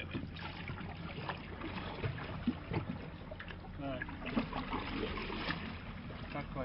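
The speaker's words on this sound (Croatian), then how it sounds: "sad ću ja veslat" Oars dip and splash as a small boat is rowed across a lake, a steady run of watery strokes and knocks close by, with voices talking over it.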